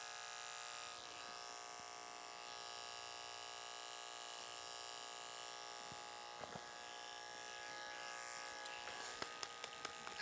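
Electric hair clipper running around the ear during a short clipper cut, a close, steady high-pitched buzz lasting throughout, with a few faint clicks near the end and no talk.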